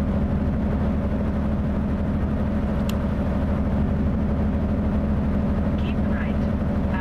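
A Mack Anthem Black Edition truck in American Truck Simulator, its engine a steady, loud low drone while driving, with someone talking over it.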